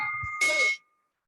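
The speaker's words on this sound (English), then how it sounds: "I'd like to ring the bell for the 17th anniversary of my business here in Oakland" A bell rung at a Rotary Club meeting in Oakland gives one bright ding with a sustained ringing tone that fades within about a second, following a brief bit of low background murmur.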